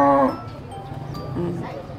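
Goats at the Canlaon livestock stockyard, with a loud bleat up close at the start and another quieter bleat later, over a busy murmur of crowd voices and yard noise.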